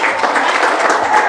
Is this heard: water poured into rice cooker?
no